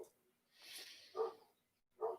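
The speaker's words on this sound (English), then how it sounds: "I'm getting distracted by the goddamn dog." A dog barks indoors in two short, sharp bursts with a pause between them, moderately close and fairly quiet, following a softer breathy noise.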